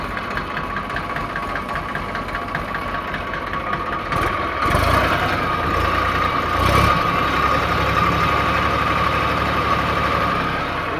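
A New Holland 3237 TX tractor engine idles in a steady, mid-pitched diesel chug with a faint knocking rhythm, close by and continuous, with a couple of brief louder bumps partway through.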